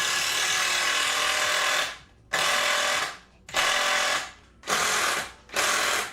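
A part is bolted onto wooden sawhorses with a power drill, heard as five loud, close bursts of whirring about a second each, separated by short pauses.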